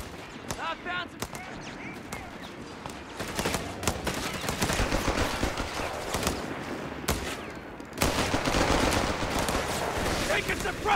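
Machine-gun fire rattles in bursts through a Company of Heroes 3 battle between Wehrmacht and US forces, dense and loud, with further gunfire layered over noisy combat.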